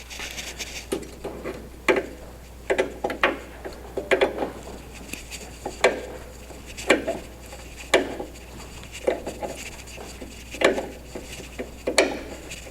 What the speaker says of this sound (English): Same thing, we're going to take out the cotter pins.